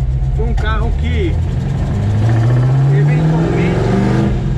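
Ford GT40 replica with a 350 hp engine revving up, its roar climbing steadily in pitch over a few seconds, loud and close, with someone talking over it.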